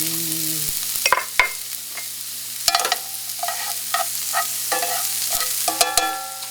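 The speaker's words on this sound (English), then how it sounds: "pan drippings, I'm adding carrots. And celery." Carrots and celery fry in chicken pan drippings, a loud steady sizzle broken by sharp clatters of a utensil stirring against the pan.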